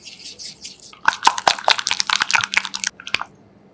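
A sauce of sugar, lemon juice, pepper and onion for a shrimp dish is stirred close up, with a soft start and then about two seconds of quick, wet clicking and scraping strokes, with no talk.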